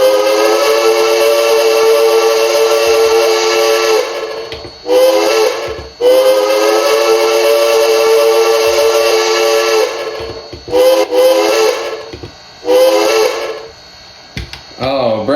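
The steam whistle of Cass Scenic Railway Shay number 5 blows in long, loud chime blasts, several sustained calls separated by brief breaks, with shorter toots toward the end.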